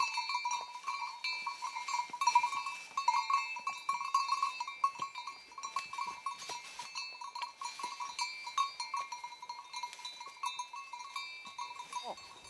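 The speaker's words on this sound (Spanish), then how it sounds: "buscando las vacas por el sonido de las esquilas" Cowbells on a herd of cattle in high mountain pasture ring faintly and continuously from a distance, a scattered irregular clanking over open air, with occasional faint voices.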